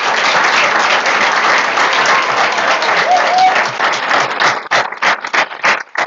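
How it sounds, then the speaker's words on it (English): Attendees at a St. Paul school board meeting applaud newly elected board directors, loud sustained clapping from a room of people that thins out toward the end into a few scattered, separate claps. "Please join me in a round of applause to congratulate and welcome all the elected school board directors"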